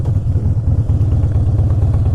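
A Harley-Davidson Softail Standard's big V-twin idles up close in a loud, steady, lumpy low rumble with an uneven pulsing beat.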